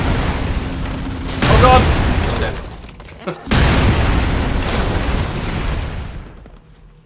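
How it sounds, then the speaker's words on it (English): Explosions in the video game Expendabros: a heavy boom bursts in, then a second blast after a brief cut-out, each trailing into a rumbling roar, with players shouting over them. "Cause the explosions would kill me."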